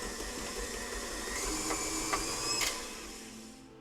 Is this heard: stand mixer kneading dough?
yes